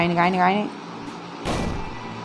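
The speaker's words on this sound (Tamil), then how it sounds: "என்ன வெடிச்சிட்டான்?" A character blows up in the platform video game Level Devil, a short noisy burst that comes just after a person's voice and then fades into a low game background.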